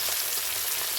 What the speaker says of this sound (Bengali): তো বন্ধুরা দেখুন আমরা কিন্তু ডুবো তেলে ভেজে নিচ্ছি মাছগুলো।